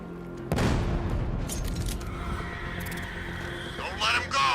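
A grenade goes off in the video game Batman Arkham Knight as a sudden loud boom with a long rumbling tail, followed by lingering debris noise and a brief crackling burst near the end.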